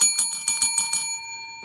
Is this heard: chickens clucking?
no